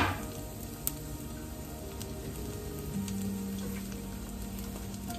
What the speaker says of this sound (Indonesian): Tumis bawang putih ya.